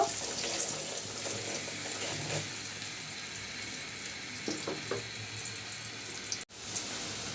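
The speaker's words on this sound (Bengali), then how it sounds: "পেঁয়াজ আর রসুনটাকে একটু ব্রাউন কালার করে নিব" Onion and garlic browning in oil with salt, a steady hissing sizzle with a few light stirring clicks, close up and fairly quiet, no talking.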